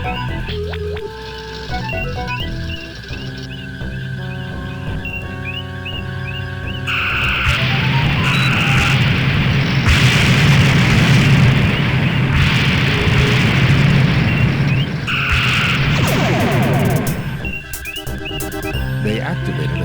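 A Romulan ship blows itself up in the Star Trek 25th Anniversary video game, a loud sustained rumbling explosion swelling midway and lasting several seconds over a steady electronic game background hum.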